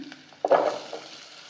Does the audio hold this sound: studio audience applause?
no